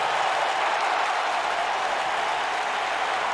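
A video-game arena crowd in Albuquerque roars and cheers for The Rock during a WWE 2K wrestling match, a loud, steady wall of applause and cheering with no break.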